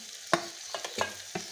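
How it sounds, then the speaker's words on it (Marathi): A garlic, coconut and crushed peanut mixture is stirred in a pan, with four quiet scraping strokes over a soft frying sizzle, close up and without talk. "लसूण, खोबरं आणि शेंगदाण्याचा कूट हे चांगलं हलवून घ्यायचं"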